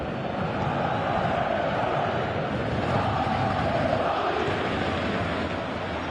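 A football stadium crowd in a PS4 football game fills the space with a dense, continuous roar that swells gently and stays loud throughout without clear breaks.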